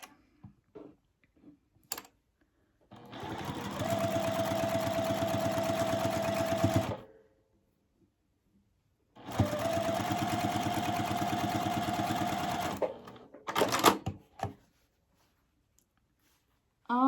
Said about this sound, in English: I'm going to take this to my machine and sew a 1/4 inch down the middle.